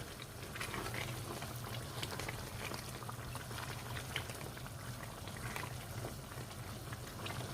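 Palak chicken curry bubbles and simmers steadily in a pot as its water cooks off, a continuous dense boiling hiss with no talk.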